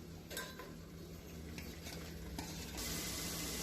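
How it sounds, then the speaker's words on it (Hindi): A spoon stirs a pinkish-maroon paste frying in oil in a pan over a medium flame, with steady soft sizzling and repeated scraping clinks close by. "स्टर करते रहना है ताकि वो नीचे नहीं लगे।"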